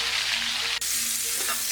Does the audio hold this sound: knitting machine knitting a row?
no